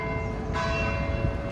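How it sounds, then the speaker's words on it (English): Church bells ringing in Sicily, a steady resonant peal with a fresh strike midway, clear and sustained with no voices. "First, we're going to listen to the bells"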